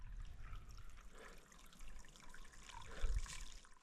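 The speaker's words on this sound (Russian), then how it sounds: "Еще один еле живой ручей." A small, barely flowing mountain stream in the Altai trickles and gurgles softly nearby, a faint continuous burble of shallow water with no voices over it.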